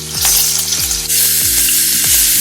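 Whole curry leaves fry in hot oil for sabudana khichdi, a loud, close crackling sizzle punctuated by a few heavy knocks from the pan.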